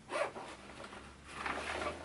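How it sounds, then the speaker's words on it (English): Zippers on a hydration carrier on a Spectre Carry System pack are run open in two quick zipping strokes, faint and close in a quiet room. "I can just simply run the zippers down"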